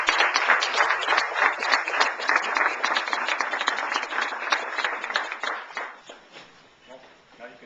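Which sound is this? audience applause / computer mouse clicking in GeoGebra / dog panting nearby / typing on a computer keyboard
audience applause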